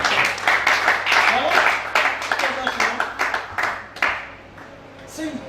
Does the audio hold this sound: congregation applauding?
yes